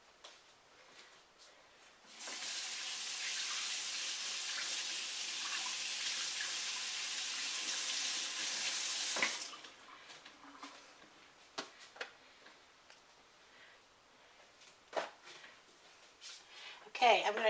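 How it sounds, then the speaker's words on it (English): A kitchen tap runs as hands are washed, a steady loud hiss of water for about seven seconds, followed by quieter clinks and soft handling noises. "Let me just wash my hands."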